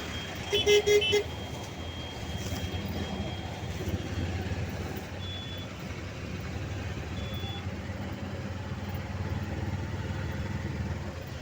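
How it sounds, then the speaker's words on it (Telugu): Busy road traffic on a bypass near Vijayawada, with a steady rumble of passing cars and motorcycles and a few short horn toots near the start. "ట్రాఫిక్ ఉన్నది బైపాస్లో"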